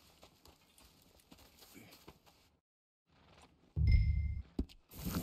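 Horse hooves clip-clopping in a Western video game, a scattered run of steps under background talk, then a louder burst of hoof and movement sounds near the end.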